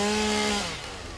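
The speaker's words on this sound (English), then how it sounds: "Now that I have a chainsaw," A chainsaw in the video game Satisfactory cuts loudly with a steady buzzing whine that drops in pitch and fades after about half a second.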